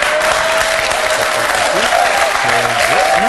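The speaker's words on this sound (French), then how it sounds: "Il n'y a pas de raison d'applaudir à ce moment-là." A French television studio audience breaks into applause on a talk show, the clapping loud and continuous, with a faint voice and tonal sounds threading through it.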